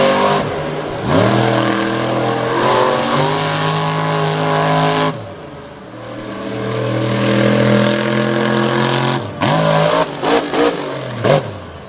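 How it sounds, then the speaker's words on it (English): A monster truck engine roars loud and close during a run at Jennerstown, revving hard and rising, dropping off sharply twice before surging again, with no talking. "The truck's running great. It's landing beautifully. The motor is sounding nice and crisp."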